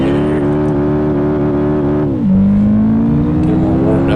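Honda Civic race car engine in Gran Turismo 5, a loud steady harmonic drone that dips in pitch midway and then climbs again as the car accelerates, continuous and close throughout.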